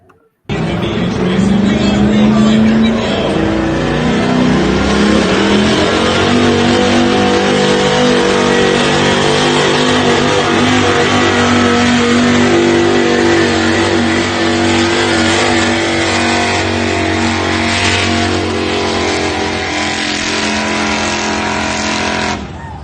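Street class truck engine at a West Coast Pullers truck pull in Turlock, revving loud and sustained with rising and holding pitch, crowd and announcer voices faintly underneath.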